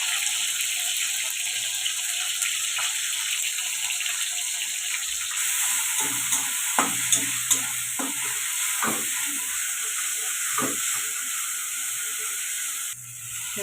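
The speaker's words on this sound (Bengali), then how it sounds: "তেলটা গরম হয়ে গেছে, এবারে আমি টমেটোটা দিয়ে দেবো। এতে আমি মিশানা করা পেস্টটা দিয়ে দেবো।" Tomato and spice paste frying in hot oil for vegetarian khichdi, a steady loud sizzle with occasional stirring scrapes and clinks, close up and without talk.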